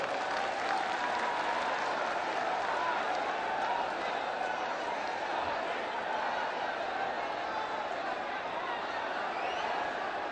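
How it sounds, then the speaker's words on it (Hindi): A large crowd at a BJP political rally in Chhattisgarh welcomes a speaker with continuous distant applause mixed with murmuring and some laughter. "एक बार जोरदार तालियों के साथ आप स्वागत करें"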